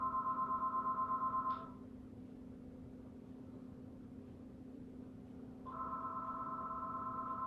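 A phone ringing indoors during a quiet wall-based hip-opener yoga session, a steady electronic trill that stops after about a second and a half, then returns after a pause of a few seconds, with low background hum and no talking.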